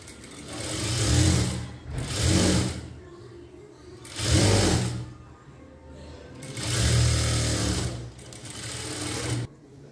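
A sewing machine stitches a hook onto fabric in four loud, close bursts of rapid stitching, each a second or two long, separated by quieter gaps.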